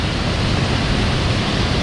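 Steady, dense rush of a waterfall at Valley Falls State Park, West Virginia, carrying brown water in autumn, a continuous broadband roar heard close and loud with no voices.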